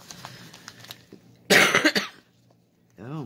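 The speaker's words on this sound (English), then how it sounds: "Cough, cough, cough." A person coughs in a quick burst of harsh, dusty coughs on a windy day, loud and close, followed by a short spoken word.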